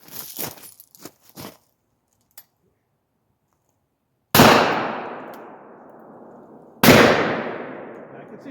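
Two deafening gunshots from a Raging Judge Magnum .454 Casull revolver, each a sharp blast with a long ringing decay, spaced a few seconds apart, after some lighter clicks and handling noises.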